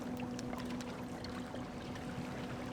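Watersnake Stealth 65 lb electric trolling motor with GPS pushing a small boat, a steady low hum with faint water trickling along the hull, continuous and quiet.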